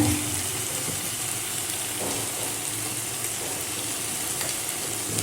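Tomato frying with salt in a pan, a steady close sizzle running throughout with faint occasional stirring scrapes underneath.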